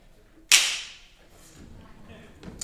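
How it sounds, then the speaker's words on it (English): A whip, the percussion instrument, played by a concert band: a single sharp, loud crack near the start that rings off briefly, followed by quieter room sounds and a faint tap near the end. "It's a whip. Let's hear what that sounds like."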